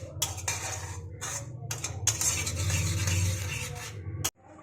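A thick gravy for broccoli stirred in a pan until the oil separates: repeated metal scraping and clinking strokes in short bursts over a low frying bed, ending with a sudden stop.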